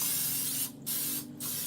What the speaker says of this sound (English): I'm going to spray this also with non-stick cooking spray